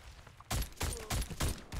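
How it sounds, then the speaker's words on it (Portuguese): Gunfire in the video game Warface, several loud rapid bursts of shots crackling in quick succession, close and punchy, with short gaps between volleys. "é muito tiro pra tudo quanto é lado"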